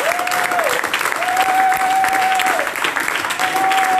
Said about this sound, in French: On acclame le Seigneur pour ça.